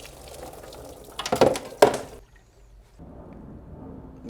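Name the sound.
old engine oil draining from a BMW E39 M5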